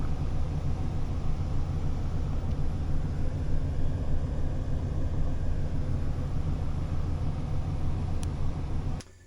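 A 2000 Chevrolet Express 2500 van with the 5.7 Vortec V8 idling, a steady, even low rumble held close and constant for several seconds before it drops away abruptly at the very end.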